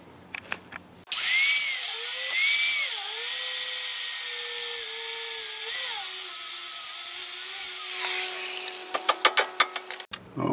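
A cut-off tool slices through a wheel stud on a Jeep Grand Cherokee hub during a stubborn wheel bearing replacement, a loud, steady high-pitched grinding whine lasting about seven seconds, followed by a scatter of sharp metallic clicks and clanks.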